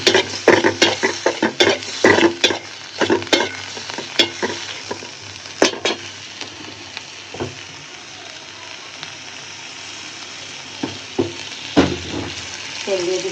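Beef liver fries in oil in a pan and is stirred, with irregular scraping strokes over a steady sizzle. The stirring is busier at first, eases off mid-way, then picks up again near the end.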